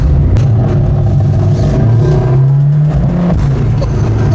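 Citroën C15 engine revving as it shifts into second gear and accelerates on a motorway, a loud close droning hum with the pitch dipping and rising again after the shift, a voice briefly heard over it.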